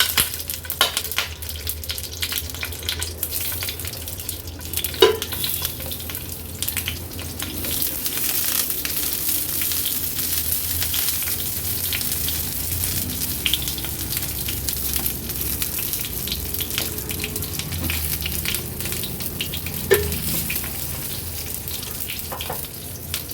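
Brinjals frying in oil in a pan on low flame, a continuous close crackling sizzle with occasional sharper pops and clicks from placing the pieces, steady throughout.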